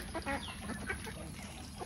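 Ducks in their pen give scattered quacks and clucking calls over a close, noisy background, several short calls in quick succession.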